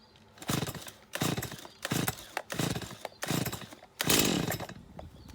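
A Stihl chainsaw's small two-stroke engine sputters and coughs on the pull start in a series of rough bursts about every second, ending with a longer splutter.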